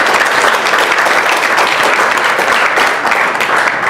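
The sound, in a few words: applause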